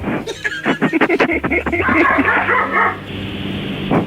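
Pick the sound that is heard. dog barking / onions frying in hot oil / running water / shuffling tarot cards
dog barking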